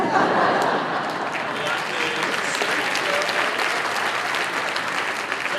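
An audience applauds a card trick at an illusionist's stage show, a loud, sustained burst of many hands clapping with some crowd murmur beneath, continuing evenly to the end.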